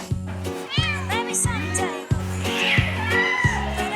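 Van cats near Mount Ararat in Turkey meow loudly and repeatedly, several drawn-out calls overlapping one another close by, while a person talks over them.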